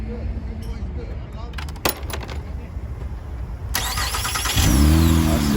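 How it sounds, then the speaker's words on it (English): A 2004–2008 Acura TL, just fitted with a new starter, cranks briefly and catches, then settles into a steady idle with a rise in revs at the end, close by, with people talking around it. "I see the vehicle started, everything running beautiful."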